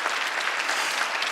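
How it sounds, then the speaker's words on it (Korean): A church congregation claps loudly and continuously at a Sunday worship service, with dense, even applause filling the whole moment and no voice on top. "박수 세게 쳐요"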